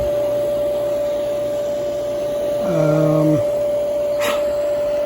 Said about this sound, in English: the motor's running fine